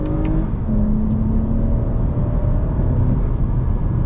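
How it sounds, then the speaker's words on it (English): The engine of a 2021 Toyota Camry TRD pulls hard under throttle in manual paddle-shift mode in first gear. It makes a loud, steady, continuous drone from inside the car with no talking. "I'm gonna put in manual shift mode, shift with the paddles, first gear, on throttle, here we go"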